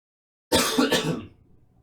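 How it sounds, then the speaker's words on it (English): A single harsh throat-clearing cough, close and fairly loud, rising abruptly after a short silence and trailing off with a breathy tail. "I have to cough again"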